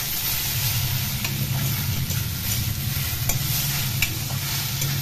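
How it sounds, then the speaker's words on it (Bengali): Small fish curry with vegetables and coriander leaves stirred in a hot pan, a continuous sizzle with scraping spoon strokes and a low steady hum beneath, close up and without speech. "ধনেপাতা দিয়ে ভালো করে নেড়ে দেবো"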